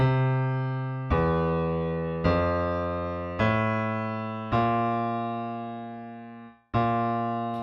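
A solo bass guitar plays a slow 2-5-1 line of six sustained notes, each held two beats with half-step approach notes below the root, plucked cleanly and left to ring and fade, stepping into each other.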